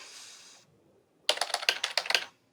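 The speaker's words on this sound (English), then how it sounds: "you can use a USB keyboard, plug it directly into the set-top box, and just start typing on screen" Quick typing on a USB keyboard plugged into a set-top box: a rapid burst of about eight crisp, close key clicks following a short stretch of hiss, with no talking.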